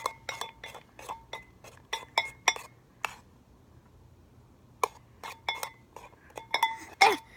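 Utensil clinks against a bowl while slime is mixed, a series of sharp taps and scrapes in bursts with a pause in the middle, close by.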